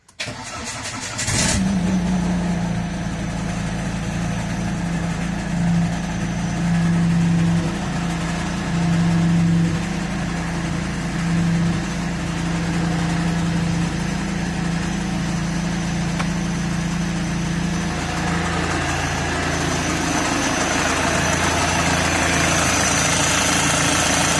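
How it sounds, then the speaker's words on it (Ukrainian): A 2001 Citroen Jumpy 2.0 HDI diesel van with a worn power steering pump cranks briefly, catches, and settles into a steady, loud, close idle with a faint whine running under the engine rumble for over twenty seconds, with no talk. "Пробуємо заводити, слухаємо, як працює старий."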